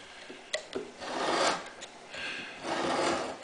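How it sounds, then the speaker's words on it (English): A marking knife scores a line across a wooden table leaf, giving two drawn-out, raspy scraping strokes with a few short clicks before them, close and fairly quiet. "Mark it with my marking knife."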